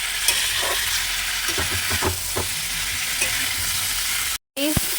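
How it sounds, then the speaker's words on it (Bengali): Potato stems with spices frying in a pan while being stirred, loud continuous sizzle with scraping strokes, close up, ending in a brief cut. "এইটা একটুখানি নাড়াচাড়া করে নিই তারপর দিয়ে দেবো শাকটাকে"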